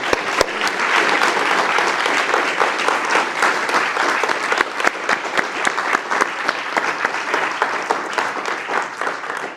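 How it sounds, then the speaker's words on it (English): An audience at a lecture on the icy moons of Jupiter and Saturn gives a steady round of applause, full and close, with some individual sharper claps standing out, and it holds for the whole stretch. "I just invite you all to give her one last round of applause"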